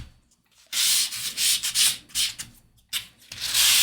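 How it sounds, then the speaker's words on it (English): Hand sanding on a wooden 1:76 model ship hull of the USS Constitution: loud, close rasping strokes in uneven bursts with short pauses between them, no talking. "we're going to sand, just a real quick sanding"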